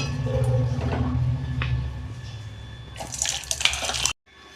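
Cooked moong dal made with fish head being poured out, a close wet splashing and gurgling pour with scraping clinks near the end before it stops abruptly.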